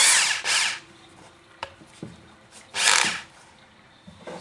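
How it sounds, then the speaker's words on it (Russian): A cordless electric screwdriver whirs in short, sharp bursts during a chainsaw repair, two quick runs at the start and another near the end, with small clicks and handling noises between. "И на шуруповерт."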